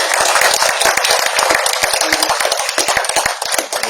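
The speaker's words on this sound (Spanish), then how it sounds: "Recibamos con votos de aplauso." Audience at a book presentation in Puno claps steadily, a dense run of close, sharp hand claps that tapers slightly toward the end.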